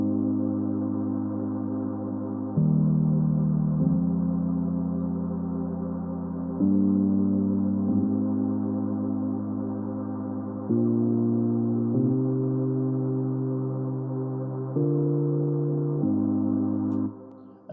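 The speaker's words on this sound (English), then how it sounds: "With Launch Lizard, I play the chords." Synth chords from a Launch Lizard plugin in an Afro house track, EQ'd to cut the highs, play as sustained warm stacked chords that change every couple of seconds, steady and alone with no talk.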